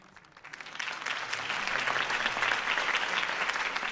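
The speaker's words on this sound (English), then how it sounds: "could have heard that applause" Video game crowd applause swells from scattered claps into steady, dense clapping that continues throughout, moderately distant.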